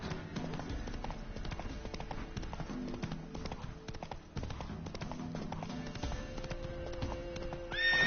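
Roach the horse in The Witcher 3 gallops in steady, loud, rhythmic hoofbeats that run throughout, with a brief neigh-like whinny near the end.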